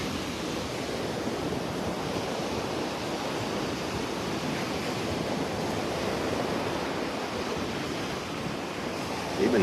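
Steady roar of surf breaking continuously on Vanderbilt Beach in North Naples, Florida, on an overcast, rainy early morning, with a broad wash of wave noise and some wind, no voices.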